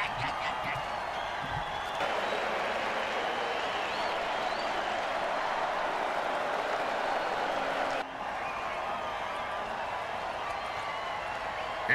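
A stadium crowd at a football game cheers and applauds in a dense, steady roar that lasts the whole stretch, with a slight shift in texture partway through.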